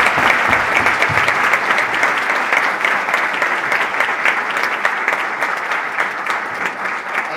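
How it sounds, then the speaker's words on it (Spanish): Loud, sustained applause from a theatre audience, steady clapping throughout with no pauses. "merece una ovación permanente"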